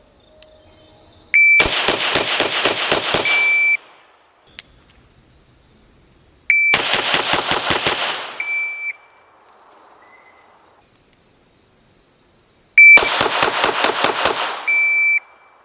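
Handgun fire in timed shooting drills at 5 yards, three loud rapid strings of shots, each several reports fired in quick succession, with a beep tone and long silent pauses between strings.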